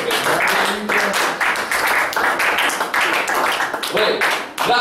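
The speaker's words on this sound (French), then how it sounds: "Acclamation pour le prophète." A church congregation claps and cheers for the prophet at a Pentecost service, a loud, rhythmic burst of applause with voices shouting over it throughout.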